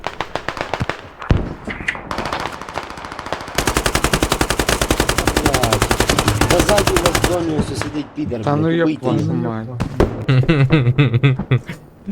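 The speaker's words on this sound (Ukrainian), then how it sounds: "Кольт стріляє" Gunfire in the video game Squad: rapid automatic bursts crackle loudly and near in a long sustained stream, broken by single shots and pauses, while voices talk over the shooting.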